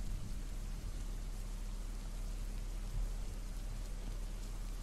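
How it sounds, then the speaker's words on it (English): Steady rain falls in the video game The Crypt Terror, a continuous even hiss with low rumbling underneath, holding at a constant level throughout with no voices. "Oh, it's raining."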